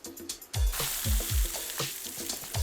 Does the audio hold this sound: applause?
no